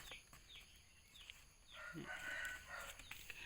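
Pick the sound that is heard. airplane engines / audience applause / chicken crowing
chicken crowing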